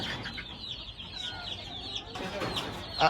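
White Japanese bantam chickens cluck in short, repeated calls at a fancy poultry farm, with farmyard noise around them and a louder squawk at the very end.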